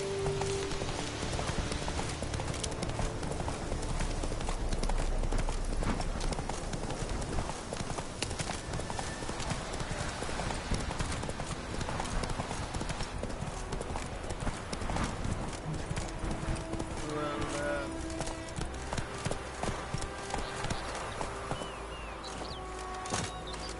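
In the video game Witcher 3, the horse Roach's hooves clip-clop at a steady rhythmic pace, close by and continuous, over a busy game soundscape with faint birds and a brief spoken voice.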